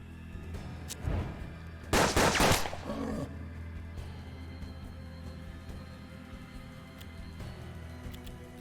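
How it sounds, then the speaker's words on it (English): Ricochet gunshot in the turn-based Wild West video game Hard West: one sharp shot near the start, then a louder, rougher burst of gunfire a second later, over a steady low hum of game ambience. "a ricochet shot?"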